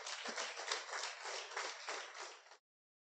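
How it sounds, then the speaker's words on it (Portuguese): A church congregation applauds after a sermon, dense, steady clapping from many hands that carries evenly for about two and a half seconds and then stops abruptly. "Vamos aplaudir o nome do Senhor."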